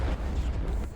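A tank gun round in War Thunder hits an enemy tank, striking its crew and ammo rack, in one heavy, low, rumbling blast that fills a brief moment, loud and close with no voices.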